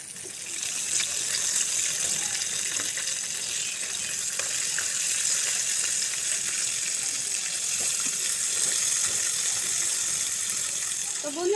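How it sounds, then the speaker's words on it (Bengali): Chicken pieces frying in hot oil in a pan, a bright, even hiss that holds steady throughout with little variation. "এটা আমাদের ভালো মতো ভেজে নিতে হবে। ভেজে দেন আমরা উল্টিয়ে দিই।"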